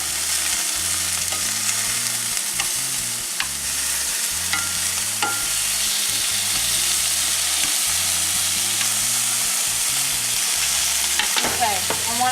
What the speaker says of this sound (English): I also want to go ahead and turn my pork over, and you see that's a nice little color.